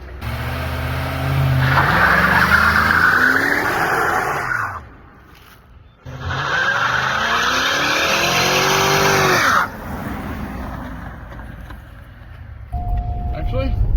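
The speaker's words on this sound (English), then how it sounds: "Will it do a burnout?" Cadillac converted into a NASCAR-style stock car doing a burnout: loud engine roar with screeching, squealing tires in two long bursts separated by a brief lull, then quieter idling, with people talking over it.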